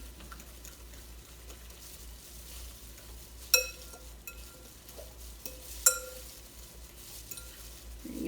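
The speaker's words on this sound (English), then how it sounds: "Give that a good mix" A spoon works through a bowl of fresh garden vegetables and shredded mozzarella for a summer garden pie: a soft, quiet scraping stir with two sharp clinks against the bowl, no talking.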